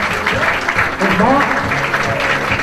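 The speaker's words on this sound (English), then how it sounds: "if we can have a round of applause for the runner-up, Mark Senior" A crowd applauds the runner-up at a county football association community awards ceremony, steady clapping in the hall while someone speaks briefly over it.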